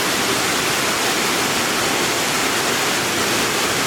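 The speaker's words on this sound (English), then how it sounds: "the sound of the waterfall" Steady, dense roar of a canyon waterfall, broadband and unbroken throughout, loud and close with no other sounds standing out.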